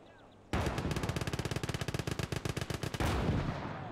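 Machine gun fire in the World War II game Gates of Hell, a single loud, rapid burst of evenly spaced shots lasting about two and a half seconds, close and sharp, followed by a lingering rumble.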